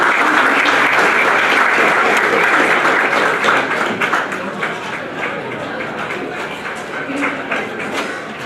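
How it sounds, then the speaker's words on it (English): An audience gives dense, steady applause to welcome a speaker at a Hindu Youth Conference session of the 2018 World Hindu Congress. The clapping fills the room and stays loud throughout, easing slightly toward the end. "So please give a round welcome to Namaste."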